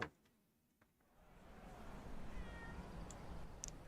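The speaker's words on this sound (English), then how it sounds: "Oh, it's a pretty kitty. I want to pet the kitty." A cat meows faintly, its soft cry rising out of a low rumbling background after a quieter opening with a few small clicks.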